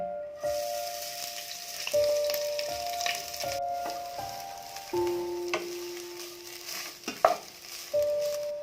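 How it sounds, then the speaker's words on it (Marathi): Grated coconut fries in ghee with a soft, steady sizzle and occasional stirring scrapes, under a melodic background tune. "आता हे खोबरं तुपामध्ये आपण परतून घेऊया।"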